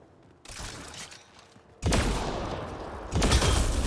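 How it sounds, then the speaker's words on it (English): Gunfire in the video game Mass Effect Andromeda is aimed at a Ket device, with a short burst of shots, then two loud, close volleys of rapid fire that come suddenly and ring out. "Shooting the device will destroy it."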